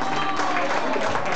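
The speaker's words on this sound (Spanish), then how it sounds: "Un aplauso para él" Dense, steady applause from a crowd of ecuadorian concert fans at a live show, a continuous wash of clapping that stays loud and even throughout without pauses.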